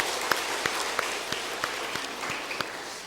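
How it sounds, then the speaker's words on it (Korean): Congregation applause during a Thanksgiving Sunday church service, a steady dense wash of clapping with a few sharper individual claps standing out, fairly close and continuous with no voices. "박수로 다시 한번 격려하겠습니다."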